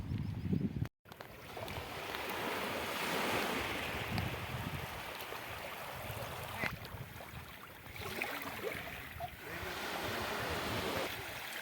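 Sea waves wash onto the shore in a continuous rushing surge, swelling and easing in broad rolls, with a brief cut-out near the start.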